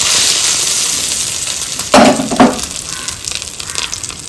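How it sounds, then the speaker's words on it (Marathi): Oil tempering with mustard seeds and curry leaves for coconut chutney: a steady sizzling hiss, then two sharp crackling bursts as the leaves hit the hot oil, settling back into a lighter spitting fizz. "चटणीत घालण्यासाठी फोडणी करत आहे त्यासाठी मी तेल घालत आहे एक चमच मोहरी घालत आहे आणि कढीपत्ता"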